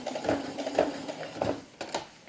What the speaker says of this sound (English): So just keep sewing.